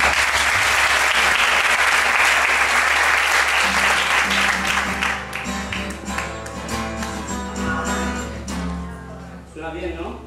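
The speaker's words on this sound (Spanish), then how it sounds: "démosle un fuerte aplauso." Loud audience applause at a live music competition final, dense clapping for about five seconds that then thins out as instrumental music with a steady low tone carries on underneath.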